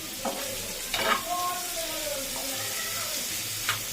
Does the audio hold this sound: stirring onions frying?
yes